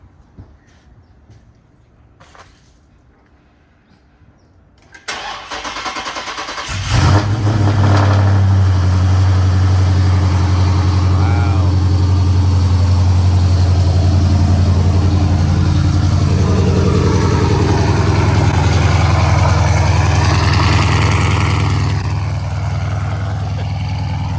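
A Scat Pack car with a newly fitted manifold and still awaiting a tune cranks after a quiet stretch, catches with a roar, and settles into a loud, deep, rumbling idle that holds steady.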